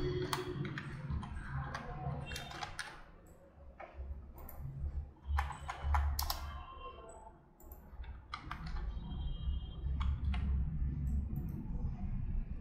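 Computer keyboard typing while filling in a sign-up form: irregular clusters of close key taps and clicks over a steady low hum, with brief quieter gaps.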